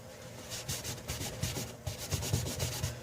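A shop towel wipes stain-removal product off vintage wood with black rust stains, making close, quiet, rhythmic rubbing strokes in a steady back-and-forth pattern, with no speech.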